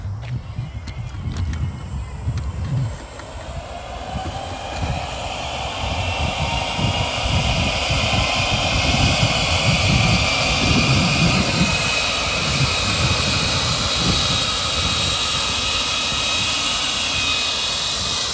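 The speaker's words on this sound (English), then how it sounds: "So this is the high setting on the blower as well." A Yarbo robotic yard machine runs its leaf blower on the high setting, a loud, steady roaring whoosh that holds close and constant throughout.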